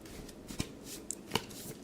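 Playing cards being shuffled close up, a quiet run of soft riffling with a few sharper snaps, no voices.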